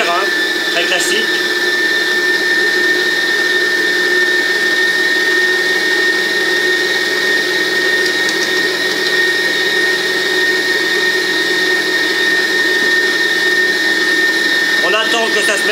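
An electric mixer whirs at full speed through cake batter with whole liquid cream, a loud, constant motor drone with a steady whine, close and unbroken throughout.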